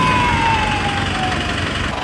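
A Mahindra jeep diesel engine runs loud and close right after a diesel filter change, a dense, steady rumbling drone with a thin, slowly falling whine on top and no break throughout.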